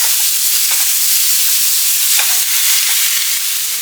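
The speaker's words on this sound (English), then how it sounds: "I'm going to get started on my ground beef mixture. I'm just going to go ahead and ground this up." Ground beef sizzles and fries loudly in a pan for a family meal, with a steady hiss broken by scraping stirs as the meat is broken up close by.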